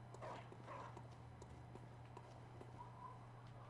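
In the video game Bloodborne, a dog lets out a couple of quick barks early on, followed by scattered faint thuds and steps against a constant low ambient hum.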